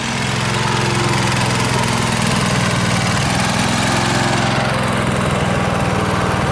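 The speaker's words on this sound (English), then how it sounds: "We just got the rider mower going." A riding lawn mower engine runs steadily and loudly up close, a constant droning rumble with no breaks and no voices over it.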